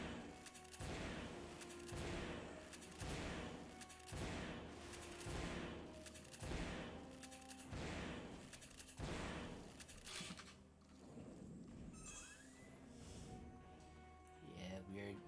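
Repeated heavy weapon blasts from the Shredder in Turok 3, a shooter game, firing in a regular rhythm of about one burst per second and loud and close, then trailing off into quieter game sounds near the end.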